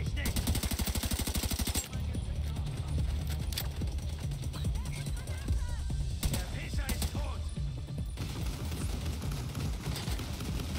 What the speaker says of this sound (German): Ganz fieses Geschütz.